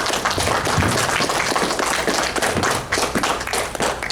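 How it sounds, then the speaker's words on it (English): Dense, sustained applause from a crowd, steady clapping throughout with a slight dip near the end. "give a round of applause"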